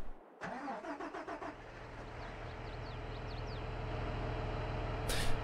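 In Farming Simulator 22, a big farm vehicle's engine cranks and catches, then settles into a steady idle that slowly grows louder, with a brief hiss near the end.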